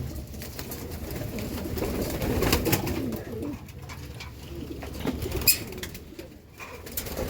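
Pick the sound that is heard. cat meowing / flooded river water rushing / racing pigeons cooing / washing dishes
racing pigeons cooing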